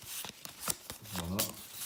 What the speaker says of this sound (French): Donc, je ramasse mes cartes. Et je mélange.